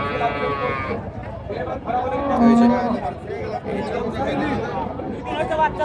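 A Friesian dairy cow moos loudly at close range amid busy chatter from several people at a cattle market, with other livestock calls in a crowded outdoor setting.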